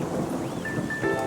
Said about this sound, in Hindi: बिजली कड़क रही है